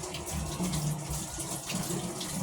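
Running tap water splashing over anchovies being washed in a kitchen sink, a steady continuous rush of water close by with no voices.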